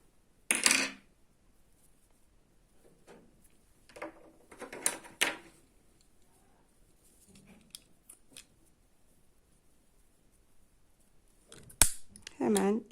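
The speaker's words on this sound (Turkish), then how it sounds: "İpimi burada kesiyorum." Scissors snip thread from a handmade needle-lace oya edging, giving a few short, close metallic clicks separated by quiet pauses, with faint handling noise between cuts.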